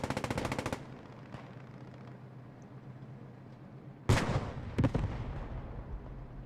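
Heavy gunfire in Post Scriptum, a WWII shooter, from a Panzer tank firing on sandbags: a rapid burst of shots at the start, a low rumble, then a loud blast followed by a second close boom.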